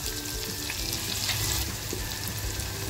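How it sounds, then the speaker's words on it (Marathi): Onion dropped into hot oil with garlic and asafoetida fries with a loud, continuous, close-up sizzle, dense and even, with a few faint clinks and no voices. "त्याच्यानंतर कांदा घेतलाय तो कांदा टाकते."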